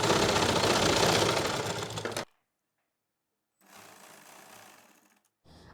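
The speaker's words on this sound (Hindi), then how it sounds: "1 इंच पहले सिलाई लगाना शुरू करेंगे। सिलते जाएंगे पूरे राउंड में, खींचना बिल्कुल नहीं है।" A sewing machine stitches around the hem of a circular umbrella palazzo in a long, loud, steady run, stops into silence, then resumes more softly for a shorter burst before a brief final whir.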